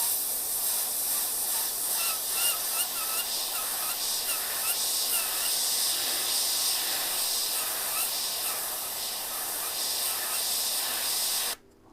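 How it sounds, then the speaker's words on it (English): An airbrush sprays paint while cherries are painted, giving a steady, even hiss that runs almost unbroken for several seconds and then cuts off abruptly at the end. "then I can just spray the rest of it"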